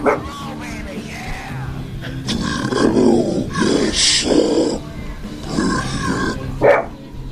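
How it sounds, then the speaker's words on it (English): Low growling and grunting like a large dog or monster, rough and rumbling in repeated bursts at close range, with some voices mixed in. "I can hear some growling."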